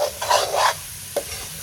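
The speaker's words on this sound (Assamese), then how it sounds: "বিলাহীয়ে পিঁয়াজে চব ভাজি ল'ম" Tomatoes and onions fry in a pan, where a couple of quick stirring scrapes sound over a low, continuous sizzle during a short stretch without speech.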